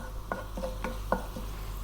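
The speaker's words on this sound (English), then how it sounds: "We're going to drop in those curry leaves" Curry leaves hit hot coconut oil in a pan, giving a quick run of short crackling pops and light clicks over a low background hum, up close with no voices.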